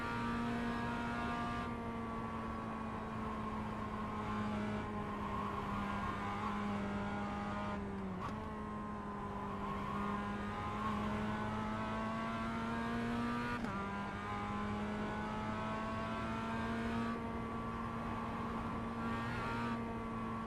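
A Mazda MX-5 in iRacing howls around the Nürburgring at night, its engine note sustained and loud with rising pitch sweeps through the gears and brief drops at shifts, no voices over it.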